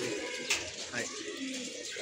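Pigeons coo softly in a loft of large pet pigeons and young birds, faint, low murmuring calls over a noisy background.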